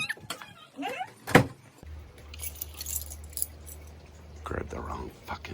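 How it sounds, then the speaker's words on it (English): Keys jangle briefly near the start of a drive home from rock repelling, followed by a long low rumble of a vehicle interior with a few faint rattles. "Grabbed the wrong fucking keys."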